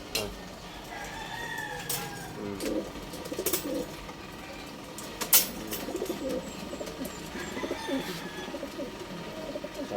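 Racing pigeons back home at a loft after a derby toss, with soft calls and coos over a busy rural yard where a rooster crows and other fowl cluck at moderate distance.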